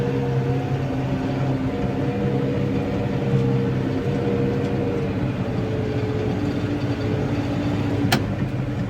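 A tractor pulls a Sloboda Target 20 stubble cultivator in a field, its engine droning at a steady even pitch for the whole stretch, with one brief sharp click near the end and no talking.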